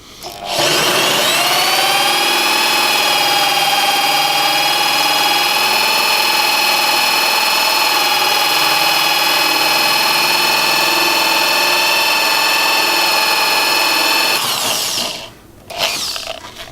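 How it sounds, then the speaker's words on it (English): An Amtech hole saw grinds steadily through laminated timber at low speed, giving a loud, continuous drill whine with a tonal hum that lasts about fourteen seconds before winding down, close and without speech. "gently allow the hole cutter to cut through the wood"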